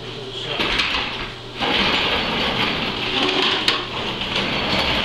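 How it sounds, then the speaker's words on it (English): Shop vacuum sucking up cast iron chips from a machining setup, a steady loud broadband roar with brief surges as debris is drawn in. "Excuse the noise, I'm going to vacuum this up."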